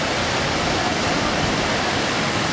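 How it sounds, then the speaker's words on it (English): A loud waterfall roars in a steady, dense broadband rush of falling water, close by and constant throughout with no talk audible over it. "I don't know if you can hear me because this water is so loud."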